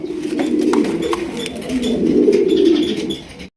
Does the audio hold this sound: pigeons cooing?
yes